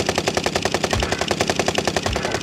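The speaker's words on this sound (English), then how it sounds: "I'm getting shot out of the fucking air again" Rapid automatic gunfire from a first-person shooter video game, a loud continuous burst of evenly spaced shots with no voices over it.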